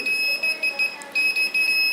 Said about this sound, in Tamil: இப்போ வந்து பீப் அடிக்குது.